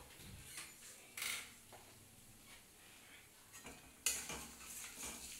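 Ridge gourd in poppy seed paste tipped into hot oil tempered with cumin, giving close utensil clatter, scraping and stirring knocks over a soft, light sizzle.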